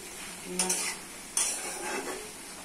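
Pointed gourd, potato and eggplant stir-fried in a pan, with a spoon scraping and stirring in a few bursts over a steady background sizzle, close and alone.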